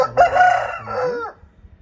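A Teekar-line rooster of an old bloodline gives one close, loud crow, a drawn-out call lasting about a second that ends in a falling note, followed by quiet.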